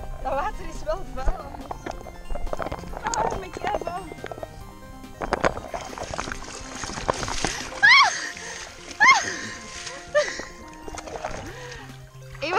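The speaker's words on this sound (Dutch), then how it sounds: "Iemand is aan het spetteren." Someone splashes in murky lake water, with intermittent splashes and sloshing beneath lively chatter and shouts from a group of people nearby.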